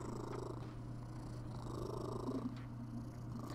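A cat purrs steadily and close by, a continuous low rumbling drone that holds for a few seconds with no talk over it.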